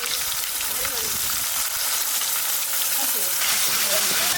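Ginger, garlic and onion fry in a pan as cumin, green chili and dried chili pastes go in, giving a loud continuous sizzle and hiss throughout, with no voices.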